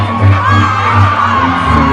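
A crowd of school youths cheers and shouts at a live stage show, a loud, dense roar of voices sustained across the short moment.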